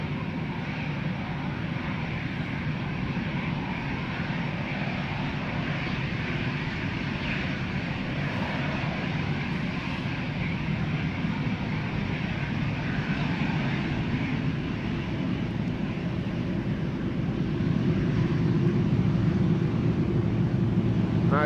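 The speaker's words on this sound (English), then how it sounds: "Aer Lingus flight 605 A320 going to Dublin." Distant, low rumbling jet roar from a 20-year-old Aer Lingus Airbus A320 departing Amsterdam Schiphol Airport, steady and fairly faint, swelling slightly near the end, with no voices.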